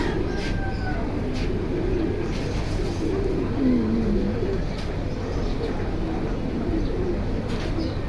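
Pigeons in a seller's new collection coo softly in a low, murmuring run against steady background noise, the calls repeating throughout.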